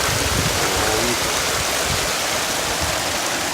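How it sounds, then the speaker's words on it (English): Small mountain stream flowing beside a trekking camp on the Chafchingol Pass, a loud, continuous broadband rush of water heard very close. "I'm sitting right by a stream, very teeny stream"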